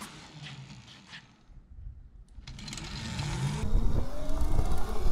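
An electric mini bike ridden after a gear swap to a taller highway gear, its motor whine and tire rumble building steadily louder as it accelerates, with wind noise and no talk.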